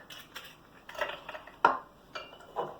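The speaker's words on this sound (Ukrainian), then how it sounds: "І отаким вінчиком розмішуємо яйця" Two eggs beaten with a hand whisk in a bowl, giving a quick run of light metallic clicks and taps against the sides, close up and fairly quiet, with no talking.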